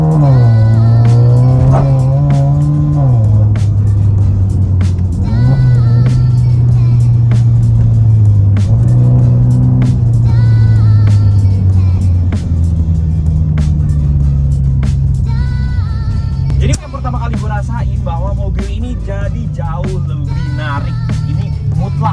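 Mazda 2 fitted with a Sokudo full-system equal-length exhaust revving repeatedly, loud and close, engine pitch rising and falling through steady throttle blips with a deep droning rumble and no speech.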